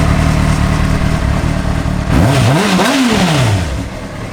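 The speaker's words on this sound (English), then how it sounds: "Let me fire this beast up. Fires up right away." A Honda CBR600 motorcycle engine catches and runs, its loud, close roar rising in a quick rev that climbs and falls before settling, heard alone.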